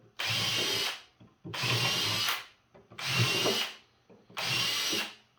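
A power drill whirs in four sustained bursts, each about a second long, separated by short pauses while screws are driven into a wooden gusset up close during sawhorse building.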